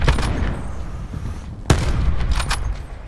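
Grenade blast in Call of Duty: Black Ops 4 Blackout, a sharp broadband burst partway through amid steady gunfire and game noise, followed by several more shot cracks.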